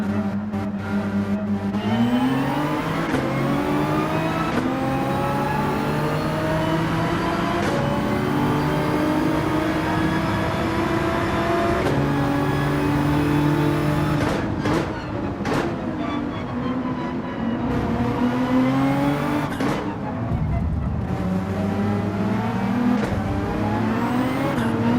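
Race car engines roar continuously through a video game race, strong steady tones rising and falling as gears shift, with several cars close together and loud throughout.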